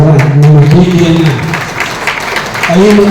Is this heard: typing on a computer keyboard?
no